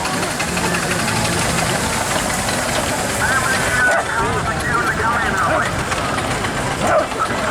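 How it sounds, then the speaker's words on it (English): A 4-inch scale McLaren miniature steam road engine enters an arena, a steady rumbling, chuffing mechanical drone that continues throughout under a commentator's voice and outdoor crowd noise. "It's a 4-inch scale McLaren road engine"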